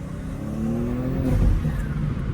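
A Porsche engine revs on the road nearby, its pitch climbing steadily in a smooth rising drone with no voices over it.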